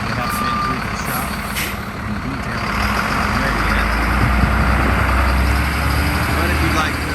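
A 2005 Sterling tri-axle dump truck idles close by with a steady low engine rumble throughout, a faint beeping tone heard early on and people talking over it.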